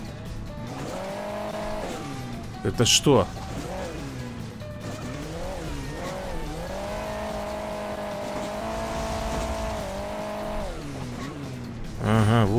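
Rally car engine from Hill Climb Racing 2 drones and revs, pitch rising and dipping with the throttle alongside skidding tires, while someone briefly speaks over it early on; a sharp, bright game effect cuts in near the end.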